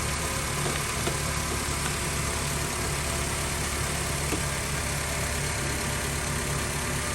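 A 2006-2011 Honda Civic engine idles steadily during a thermostat replacement, a constant, even hum with no change in pace, heard up close and alone.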